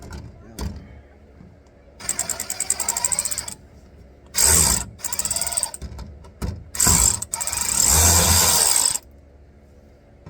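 A ratchet works loose the oil drain plug on a 2025 Buick Encore GX with a 1.3 L engine, giving bursts of clicking and metallic rattling in several separate spurts, close and fairly loud.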